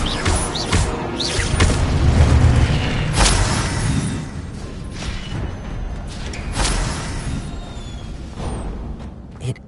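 Incendio fire spell cast in Hogwarts Legacy, a loud, dense burst of whooshing, roaring flame with rumbling low end and crackling bursts, swelling early then sustaining with scattered sharp accents.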